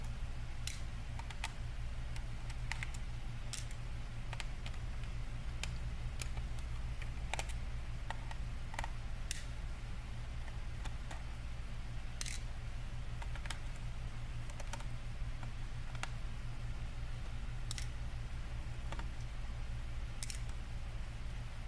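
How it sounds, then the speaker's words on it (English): Screws being removed from the bottom cover of a Lenovo IdeaPad 3 15ITL6 laptop, giving scattered small ticks and clicks of a screwdriver and screws at close range over a steady low hum, with no talking. "There's a bunch of screws you want to remove."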